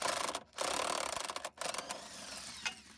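A 5/8 wrench or ratchet working loose the rear shock mounting bolts on a 2008–2022 Chrysler Town and Country / Dodge Grand Caravan minivan, with steady dense metallic ratcheting and clicking, broken by a few brief pauses, close up and without talk.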